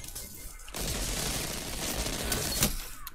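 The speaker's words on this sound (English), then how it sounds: "Someone else is shooting." Burst of rapid gunfire in the video game Destiny 2, a dense continuous volley of shots lasting a few seconds with a sharper crack near the end, fairly close and with no talking.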